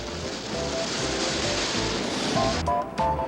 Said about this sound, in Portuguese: A agitação da piscina de ondas artificiais, única na América Latina, inaugurada este ano.